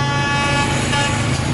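Train horn honking as one steady, sustained tone held for the whole moment, loud and unbroken, without speech.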